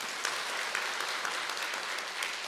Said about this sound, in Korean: 우리 다 같이 하나님께 영광의 박수 한번 올려드릴까요?